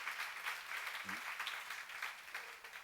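Audience applause fills a church seminar hall, steady and dense throughout, with a brief low voice sound partway through.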